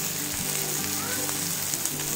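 Chopped onion dropped into hot oil in an iron kadhai over a wood-fired stove, giving a steady, close sizzle with a low hum beneath and a faint voice in the background.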